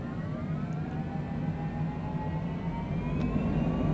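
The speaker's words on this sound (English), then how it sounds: "we're going to throttle it up" Propeller airplane engine in Microsoft Flight Simulator 2020 throttling up for takeoff: a steady, loud engine drone whose tones climb slowly in pitch as power builds, continuous throughout with no talk.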